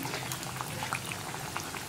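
Parippu vada, dal fritters, deep-fry in hot oil with a soft continuous bubbling sizzle and scattered small pops, fairly quiet and steady, with no talking.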